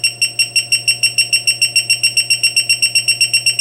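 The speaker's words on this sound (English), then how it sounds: "A further lowering will cause the alarm to speed up." The 48-volt on-board battery charger's low-voltage alarm beeps faster, a rapid, insistent train of piercing electronic pulses with no gaps between bursts, over a steady background hum.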